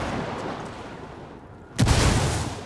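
A frag grenade blows up in the tactical shooter Ghost Recon Wildlands. After a stretch of low background rumble, one loud, sudden broadband boom arrives and then fades slowly, with no talk.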